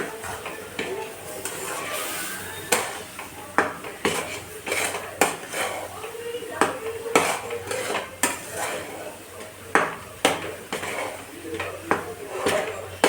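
A metal spoon stirs and scrapes besan (gram flour) roasting in a pan, with repeated sharp clinks and taps against the pan at an uneven rhythm over a soft, continuous scraping.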